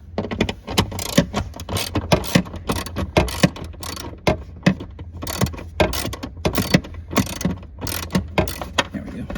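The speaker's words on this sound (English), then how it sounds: "Two 8 millimeter screws right here, and we're gonna take those out right now." Two 8 mm screws being backed out with a ratchet inside the cabin of a 2010-2012 Ford Fusion during climate control unit removal, close rapid clicking pawl strokes in uneven bursts with brief pauses between turns.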